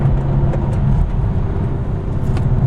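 BMW M2 fitted with M Performance Parts driving on a track, taking a downhill section: a loud, steady engine drone with a constant low rumble and no break.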